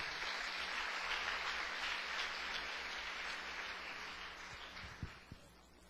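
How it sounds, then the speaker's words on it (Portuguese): A church congregation applauds in a steady, soft patter of many hands that slowly thins out, with a couple of sharper knocks near the end. "Agora você pode dar outra salva de palmas para o Senhor"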